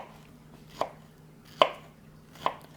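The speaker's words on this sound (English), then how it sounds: "So you want to slice your peaches" A knife slices through peaches on a cutting board in three separate sharp cuts, spaced roughly evenly, close and fairly quiet with no talking.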